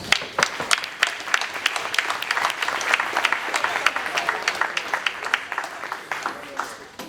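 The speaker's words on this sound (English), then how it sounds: "Please give her a better round of applause than that." An audience applauds a guest speaker at a talk on Black economic renewal, with about seven seconds of full, continuous clapping from a crowd that swells slightly in the middle and tapers at the end.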